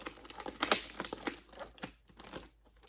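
Close crinkling and rustling of cardboard and packaging being pulled open, a few sharp tearing bursts, then quieter handling toward the end.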